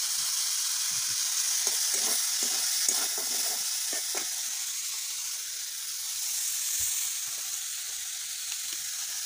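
A little oil sizzles and hisses steadily in a pan while puti fish is being cooked, with soft stirring scrapes throughout and no talking.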